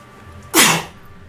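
One sharp sneeze bursts out close by against a quiet background, a brief breathy explosion lasting about a quarter second.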